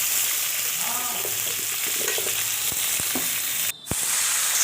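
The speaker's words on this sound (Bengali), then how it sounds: "এবার আমগুলোকে আমি দিয়ে দিচ্ছি কড়ার মধ্যে" Raw mango pieces frying in a kadai of hot oil with panch phoron and mustard seeds, a steady broadband sizzle with a few sharper pops and spatters, close and continuous, with one brief dip near the end.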